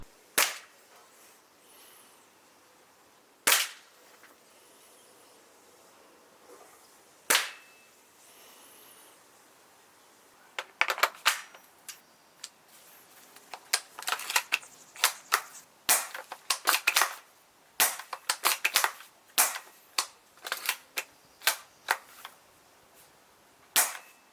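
An airsoft sniper rifle fires through a chronograph, each sharp snapping shot standing alone, with a few spaced shots early and then a quicker irregular string of pops close by.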